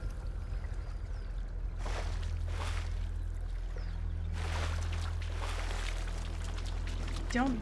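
Flowing water in the video game Talos Principle 2, a steady broadband wash with brief louder surges, set over a constant low hum from the game.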